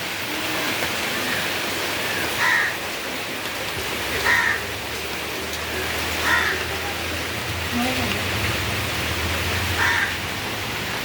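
Steady monsoon rain in Goa hisses continuously, with a few crow caws cutting through now and then.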